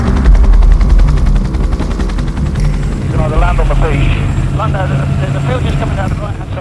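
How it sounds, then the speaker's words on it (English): A Royal Navy search and rescue helicopter in flight, with a loud steady rotor chop and engine drone heard from close by throughout, and a voice speaking over it in the second half. "Flying by helicopter is the quickest way to get there,"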